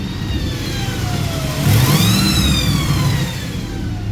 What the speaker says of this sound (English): There's like this whining noise coming from under the vehicle here.